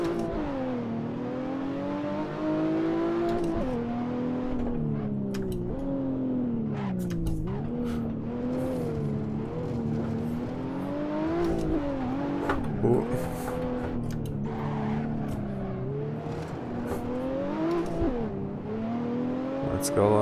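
A Stage 3 BMW 1M at a hillclimb roars loud and close through first and second gear, engine revving hard and rising and falling in pitch with tire squeal from repeated burnouts, continuous throughout, with a voice talking over it.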